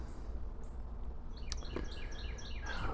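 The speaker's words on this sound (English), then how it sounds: "Even though now I can mostly hear the birds chirping in the background." Faint bird chirps and quick tweets over a steady low background hum, outdoors at a distance.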